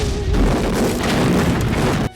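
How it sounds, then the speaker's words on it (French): A grenade explosion in a film fight scene, a loud sustained boom with rumbling debris that fills about two seconds before cutting off abruptly. "Finalement, Tapo sort une grenade et met fin au combat"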